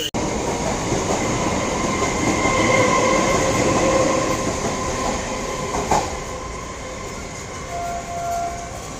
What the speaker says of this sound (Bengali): তো ট্রেন এসে গেছে।